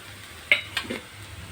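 Grated carrot, fresh coconut and sugar stirred in a pan for a dry-fruit carrot-coconut sweet, a couple of sharp utensil clinks and a soft scraping stir over a faint background hum, brief and close.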